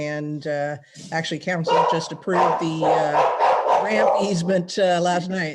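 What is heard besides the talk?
dogs barking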